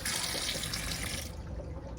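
Water runs steadily from the faucet of a campervan sink in a Ford Transit conversion, a close, continuous hiss of flowing water that eases off slightly near the end.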